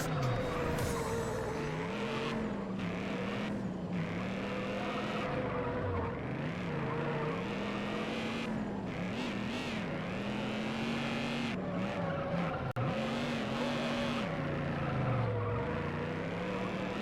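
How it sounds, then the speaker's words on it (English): Racing car drifting around a corner in the video game Juiced, its engine droning loud and continuous with rising and falling pitch as it slides, tires squealing throughout. "You basically just got to drift around the whole thing."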